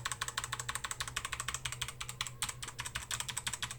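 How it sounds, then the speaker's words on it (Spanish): Rapid, steady clicking of keys typed hard on a Redragon Kumara White mechanical keyboard with red Outemu switches, close and crisp, with no voices. "Y este es el sonido del Kumara."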